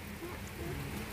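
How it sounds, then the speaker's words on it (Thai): Rain falls steadily outdoors, a dense, even hiss of drops that fills the whole short moment without any break. "ฝนยังตกอยู่พี่น้องเอ้ย"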